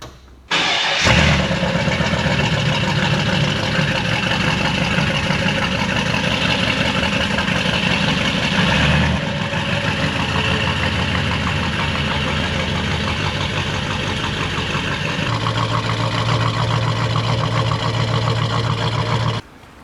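A 2019 Ford Mustang engine runs steadily and loudly for the whole stretch, starting with a sharp rise, then a brief dip partway through before the rumble settles back in at close range.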